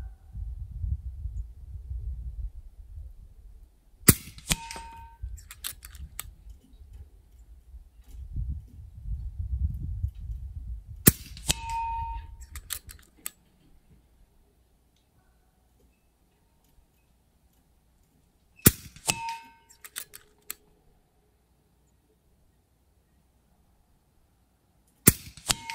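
An FX DreamTac Compact bottle-version air rifle fires pellets at a 100-yard target, sharp isolated cracks spaced several seconds apart with faint ringing, over low wind rumble early on and near silence later.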